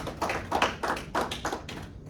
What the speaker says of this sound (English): Clap it up for Brother Ben for sharing that.